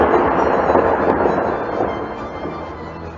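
A loud, close thunder rumble rolls on continuously, dense and broad like a storm crash, slowly easing off toward the end.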